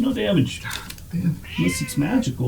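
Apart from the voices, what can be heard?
angry cat meowing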